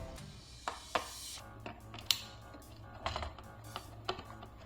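Small clicks and scrapes of a screwdriver backing out the last screw from a computer keyboard's PCB during a teardown, close and fairly quiet, with scattered sharp ticks over about five seconds.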